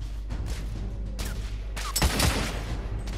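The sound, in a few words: gunfire in video game The Order 1886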